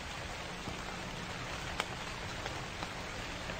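Rain falls as a soft, even patter with a few faint isolated drop ticks, quiet and continuous with no talking.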